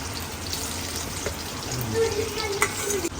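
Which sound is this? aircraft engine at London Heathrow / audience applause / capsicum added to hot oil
capsicum added to hot oil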